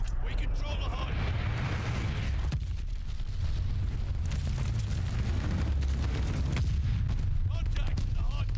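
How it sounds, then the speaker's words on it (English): Enemy glide bomb explosions in Call of Duty Vanguard, heavy continuous rumbling booms and blasts that fill the whole stretch with deep sustained energy and sharp impacts throughout. "Got an enemy glide bomb on the way."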